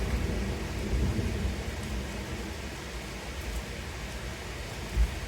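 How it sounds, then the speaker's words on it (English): A thunderstorm rumbles as a continuous deep roll of thunder mixed with steady rain, with one brief heavier thud near the end. "I just got super distracted by the thunderstorm here."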